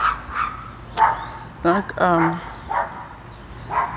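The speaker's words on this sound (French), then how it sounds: "Vous écoutez les chiens de la voisine qui sont en train de crier." A neighbour's dogs bark and yip in short bursts in an apartment complex in San Antonio, Texas, fairly close, with someone talking in French between and over the barks.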